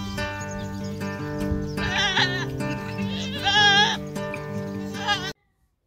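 Goats bleat repeatedly, several wavering cries overlapping close by, with steady farmyard background, then the sound cuts off abruptly near the end.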